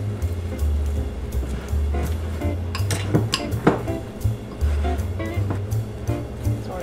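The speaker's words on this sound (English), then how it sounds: "Now I'm going to use my fork again to combine the ingredients." A fork clinks and scrapes against a small bowl while stirring Nutella cookie ingredients into dough, giving irregular close metallic taps and scrapes over a low hum.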